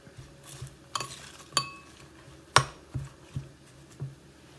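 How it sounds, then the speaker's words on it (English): Avocado mix being stirred into a vegan buddha bowl with a utensil: faint scraping and soft clinks of metal against a bowl, a few distinct taps spaced irregularly over a few seconds. "Then we're gonna add some of our avocado mix into it and just mix it up."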